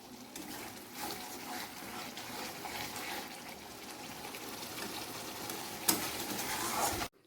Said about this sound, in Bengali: এখানে ফুটছে ভাত, এটা হচ্ছে রাত্রের জন্য